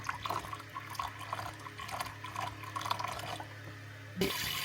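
Water runs from a shower-style faucet at a camping setup in a car, a steady close splashing stream with small drips, ending in a louder broadband gush.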